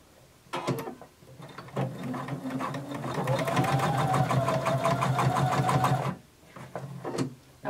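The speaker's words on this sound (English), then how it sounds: "we're going to sew down 5/8 of an inch and then 5/8 of an inch across until we reach our pin" A domestic sewing machine stitches fabric in one continuous run of several seconds, with brief bursts of stitching before and after and a steady mechanical whir up close.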